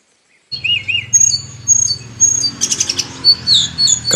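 A Kakamega greenbul calls in a Kenyan forest, giving loud, close, clear whistled notes and chattering bursts over a steady low hum of forest insects.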